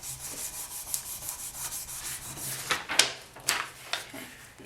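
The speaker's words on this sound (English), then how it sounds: "So I'm just burnishing those slices all together." Polymer clay cane slices are burnished together by hand, giving repeated soft rubbing strokes close by that grow into sharper, brisker swipes toward the end.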